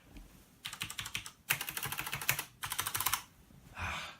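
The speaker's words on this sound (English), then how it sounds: "Here is my amazing, I absolutely love this thing, my amazing mechanical keyboard." Rapid bursts of clicky keystrokes on a mechanical computer keyboard at a home desk setup, three fast typing runs with short pauses between, close and crisp with no talk.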